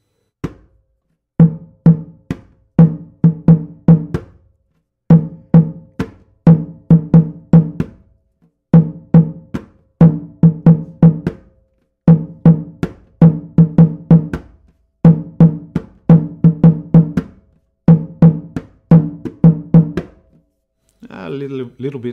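Samba drumming in Ara Ketu style as played in Rio repeats in tight rhythmic bursts, with one open stick stroke followed by three quicker notes, loud and close, separated by short pauses, with a voice briefly at the end.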